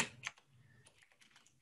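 Keys on a computer keyboard tapped while someone writes HTML and CSS code for a class: a few scattered, soft clicks close by in a quiet room, with no talking.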